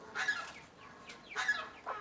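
A chicken clucks in short, faint bursts, two or three quick calls a moment apart.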